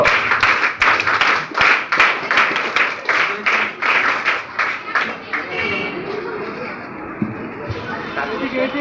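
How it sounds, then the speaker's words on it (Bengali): An audience at a children's day prize-giving claps hard for a first-place winner, a loud, fast run of rhythmic group claps that fades after several seconds into crowd chatter. "মাহিকার জন্য খুব জোরে তিন তালি শুরু করো"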